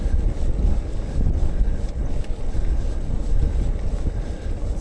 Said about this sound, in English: It's very windy around here. It's a side wind.